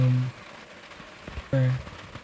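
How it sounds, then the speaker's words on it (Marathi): Heavy monsoon rain pours steadily in the Konkan near Chiplun, a continuous hiss with a couple of brief tonal sounds rising above it. "एकच नंबर पाऊस चालू आहे. आता लगातार पाऊस."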